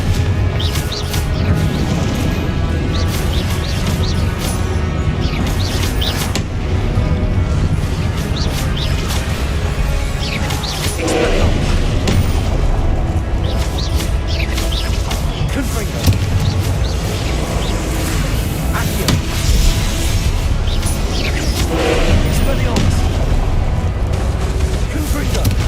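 Explosive Confringo spell blasts and booms in a Hogwarts video game on Xbox Series X, mixed into dense, continuous game noise with a voice talking over it throughout.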